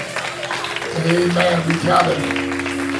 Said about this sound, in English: give God a big hand clap of praise all over this room